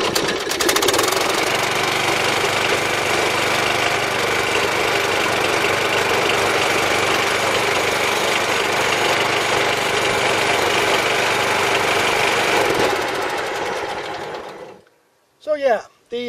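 Cold Dixon riding mower engine with a 30-inch deck, choke on, running close by with a loud, rapid chugging rumble for about fourteen seconds before it cuts out, followed by a short burst of voice.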